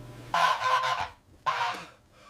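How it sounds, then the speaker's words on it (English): Live geese honk loudly and close by in a house at night, two harsh bursts of honking with a short gap between them and no talking. "Are those live geese?"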